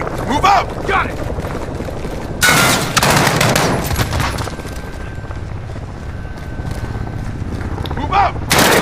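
Gunfire in the Call of Duty Modern Warfare campaign, with loud bursts of shots and heavy blasts breaking out between stretches of quieter battle noise, while voices talk over the action.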